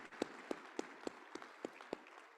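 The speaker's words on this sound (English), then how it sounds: "one more round of applause, please, for our title sponsors" A few evenly spaced hand claps from a distant audience at a city address, faint, sparse and rhythmic, with no voices.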